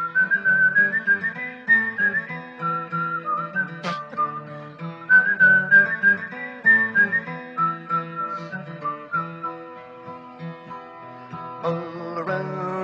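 A person whistles a lilting melody in bright, clear tones, imitating a tin whistle, with phrases rising and falling, close and steady.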